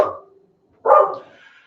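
A dog barks once at the door after a knock on cardboard, a close, loud single woof preceded by a fading earlier bark and followed by a trailing whine.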